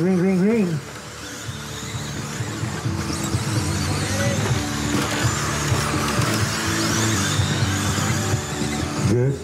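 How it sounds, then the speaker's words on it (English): A pack of street stock race cars roars off at the start of an A main event, engines revving loud and continuous with droning harmonics, an announcer's voice talking over the field. "Good start out of street stock A main event."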